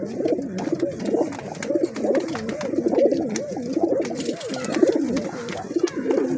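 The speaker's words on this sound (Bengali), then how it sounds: "আপনার ধরে দেখিয়ে দিচ্ছি পায়রাটা" A male pigeon held in hand coos close up in repeated rolling, throaty phrases that continue without a break, loud and clear with no talk over them.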